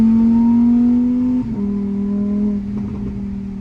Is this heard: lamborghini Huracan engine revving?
yes